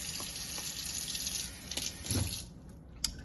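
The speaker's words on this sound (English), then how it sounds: "And then we're going to rinse those off." Tap water runs over Pinter beer-brewing parts at a sink, rinsing them with a soft, quiet splash, a few small clinks and a gurgling burst toward the middle.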